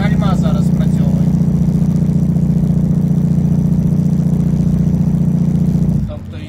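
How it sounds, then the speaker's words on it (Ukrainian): Truck engine brake working while a heavy truck descends a snowy, icy road in Washington state, a steady loud low droning rumble from inside the cab that drops off near the end. "Це моторні гальма зараз працьовують."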